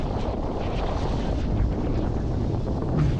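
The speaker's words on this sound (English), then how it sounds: "that wind's picking up" Strong wind on California's Lost Coast near Petrolia in Humboldt County buffets the microphone in a continuous, loud rumbling roar with no pauses.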